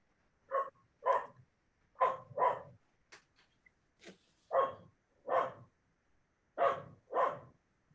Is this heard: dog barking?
yes